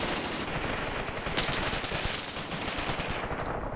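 Sustained machine-gun and rifle fire crackles through a battle in the World War II tactical game Graviteam Tactics: Mius Front, with dense overlapping bursts that stay loud and continuous throughout.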